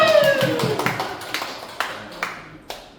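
Children at a worship service clap after a correct answer, with a burst of several quick near claps at first, mixed with a brief voice, then thinning into a few isolated claps that fade out.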